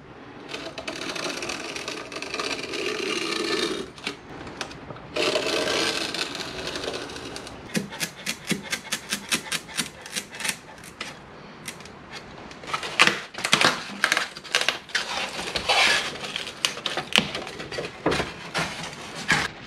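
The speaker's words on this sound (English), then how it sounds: "see if I can cut a perfect circle with this vent" A compass cutter scoring a circle into van wall insulation, heard as a busy run of rapid scraping and cutting rasps, continuous at first, then breaking into quick rhythmic strokes and louder bursts near the end.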